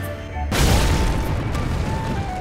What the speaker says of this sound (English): you could just surprise them with this Explosion Flask